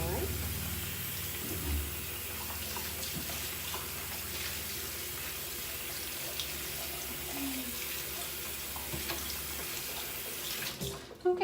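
A measuring cup is rinsed under a running kitchen tap, giving a steady water hiss and splatter that carries through the whole stretch, with a brief clatter near the end.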